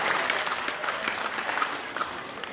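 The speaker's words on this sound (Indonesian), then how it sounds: "tepuk tangannya dong." An audience applauds through a comic Balinese bondres performance at the 2019 Bali Arts Festival, a dense, sustained clapping with no gaps.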